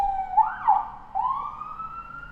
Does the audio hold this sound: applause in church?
no